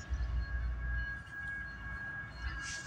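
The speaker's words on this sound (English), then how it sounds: "We got a train coming here in Eaton, Ohio." A train rumbles toward a railroad crossing in Eaton, Ohio, a steady low mechanical drone with a sustained crossing-bell tone ringing over it, moderately distant.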